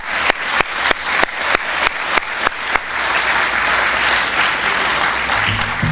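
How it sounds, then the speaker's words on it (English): Applause from an audience at a Citizen of the Year awards evening: sharp rhythmic claps at first, then swelling into dense, sustained clapping that fills the room. "ask for one more round of applause"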